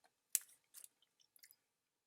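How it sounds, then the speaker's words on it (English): Close, quiet crunching of hard cheddar cracker snacks being chewed, a few short crisp bites spread unevenly over about two seconds with near silence between them. "I don't know if you're hearing me chew"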